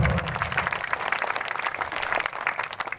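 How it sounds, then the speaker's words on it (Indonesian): Applause from a gathering of workers and families at a meeting about unpaid rights from a coal mining company: continuous, fairly loud crowd clapping with a busy, irregular texture throughout. "Jadi ya, tepuk tangan dulu, kasih aplaus."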